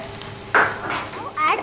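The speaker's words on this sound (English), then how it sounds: "Add garlic into it. Saute for few minutes." Garlic sautés in oil in a pan with a short close sizzle and brief stirring hiss, rising in quick bursts over a second or so.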